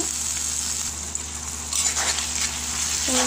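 Chopped onions tipped into a hot oiled pan while cooking a fish-head and mung dal dish, a steady close sizzle that swells louder as they land and keeps frying to the end.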